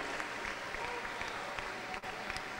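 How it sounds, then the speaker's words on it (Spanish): Congregation at a church convention applauds, a faint, steady patter of many hands clapping at a distance, with murmured voices underneath. "Aplaudimos a Cristo com alegria."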